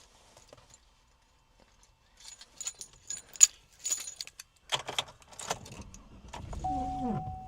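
Keys jangle as they are pulled from a coat on a snowy day in Madison, Wisconsin, a series of light metallic clinks and rattles, followed by rustling and a vehicle-like hum at the end.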